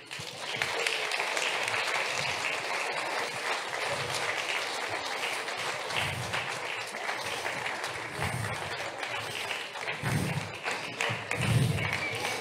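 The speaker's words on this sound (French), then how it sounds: "Vous pouvez les applaudir." Audience at a Christmas show applauds steadily as children enter a church, a loud, sustained wash of clapping with occasional thumps of footsteps underneath.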